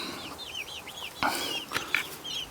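Chickens cluck and chatter nearby in a steady stream of short calls, with a few louder squawks mixed in.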